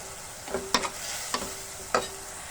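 Chili, cumin, coriander and turmeric powders with salt fry in oil for palak paneer, a soft hiss broken by a few sharp scrapes of stirring, faint and close.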